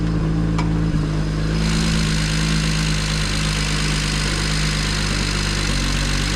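A modified, roughly 400 hp BMW 335is sits idling, its engine a steady, loud, close rumble with a deep low drone and no break in the sound.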